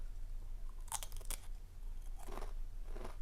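Close, crisp crunching of chips being chewed, a few sharp bites followed by softer crunches, with no talking.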